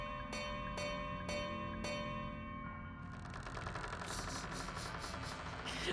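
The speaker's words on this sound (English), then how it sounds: "I'm gonna ring this bell 5 times." A bell in the video game Crow Country struck five times in quick succession, each clear ringing tone sustained over a low mechanical rumble, followed by a louder rattling, clattering din.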